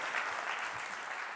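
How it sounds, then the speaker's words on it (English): An audience applauds a speaker taking the stage at a design talk, steady dense clapping filling the short moment without voices. "Let's have a big round of applause for Jasmine."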